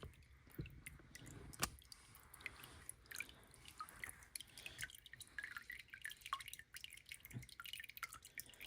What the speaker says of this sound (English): And we'll just see it drip on through.